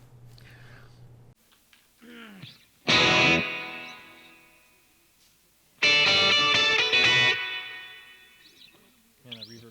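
An electric guitar drenched in reverb plays two loud strummed bursts separated by quieter ringing passages, with sustained chords decaying into echoing tails.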